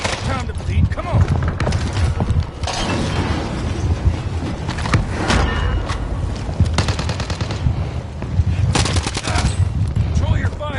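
Heavy gunfire in a Warzone quads match: sustained automatic bursts and scattered shots with occasional booms, loud and near, with voices talking over the shooting throughout.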